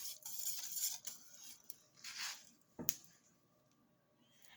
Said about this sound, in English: I'm going to mix this up now to get it all nice and blended.